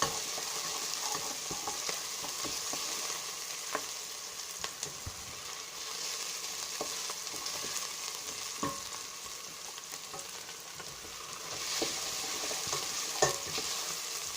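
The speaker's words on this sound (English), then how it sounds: "Mix it for like 1 minute or a half. Give it a nice mix." Onions frying and being stirred in a pan for vegetable soup: a steady hiss of sizzling oil with scattered scrapes and taps of a spoon against the pan, close and alone, with no talk.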